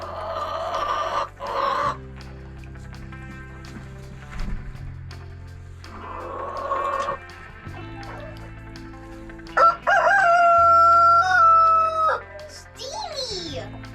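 A rooster called Steamy crows loudly and nearby in a few drawn-out bursts, while children and adults talk around it.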